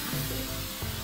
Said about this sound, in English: So I am going to spray it down.